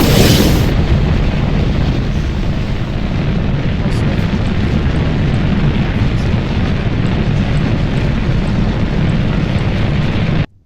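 Rocket engines launching at full throttle in the video game Kerbal Space Program, a loud, steady, broadband roar sustained for about ten seconds before cutting off abruptly.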